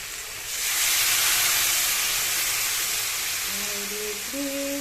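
Water poured into a pan of frying vegetables seasoned with salt, turmeric and a little ground nut paste for shukto, giving a loud, sustained hissing sizzle that surges up and stays steady, with a faint voice near the end.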